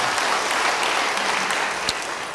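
Church congregation clapping in a dense, continuous burst of applause that fills the room and carries on steadily with no voices over it.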